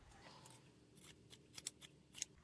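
Fabric scissors snip straight across a shirt in a series of quick, crisp cuts, close and quiet, with short sharp blade closures at irregular intervals and no speech.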